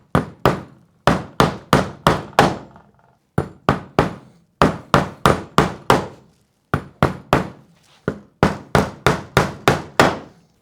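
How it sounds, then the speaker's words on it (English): Roofing nails driven by hammer into an asphalt shingle roof while a snow bracket is installed: loud, sharp, close blows in quick bursts of four or five strikes, with short pauses between sets. "Find your design spot and hammer. Today we're using roofing nails."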